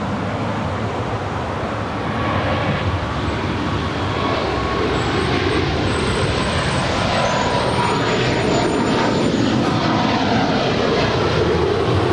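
EVA Air flight 609 at Los Angeles airport, a loud, close jet engine roar that holds steady and strengthens slightly over twelve seconds, with broad rumbling wash and no talking.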